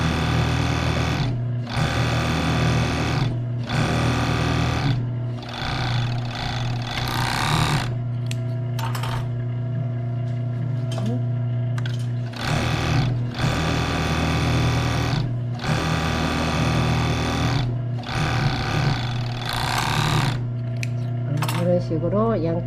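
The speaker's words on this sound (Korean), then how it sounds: "소매 양옆에를 이렇게 오바록으로 처리를 해주세요" An overlock sewing machine finishing the side seams of a dress sleeve runs in loud, steady bursts of a few seconds each, separated by short pauses with light handling clatter.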